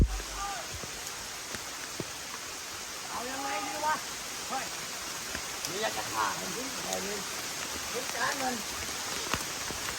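Rain falling steadily in a soft, constant hiss of drops, while people talk over it at intervals throughout.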